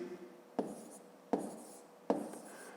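Handwritten numbers being set down on paper for a fifth-grade column addition problem, heard as three short pen-scratching bursts spaced about a second apart, soft and close with no talk over them.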